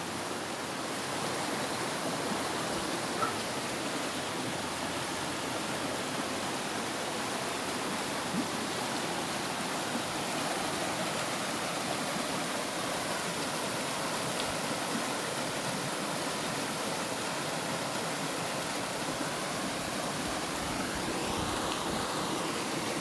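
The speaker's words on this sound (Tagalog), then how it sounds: "Ang ilog na yan." A countryside river in Nagcarlan, Laguna flows with a steady, soft, continuous rush of water, an even broadband hiss that holds the same level throughout, with no talking heard.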